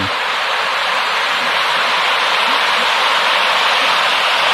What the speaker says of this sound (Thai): น้ำล้นสปริงเวย์ มันล้นเรื่อยนะ